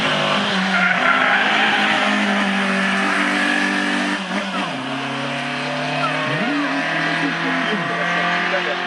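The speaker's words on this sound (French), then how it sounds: "Donc ils font des gros freinages, des grosses entrées de virage, de la glisse, un petit peu." Race cars at a historic hill climb event in Bona brake hard and slide into corners, engines revving loudly and steadily with pitch dips as they slow, tires squealing, under a busy outdoor crowd ambience.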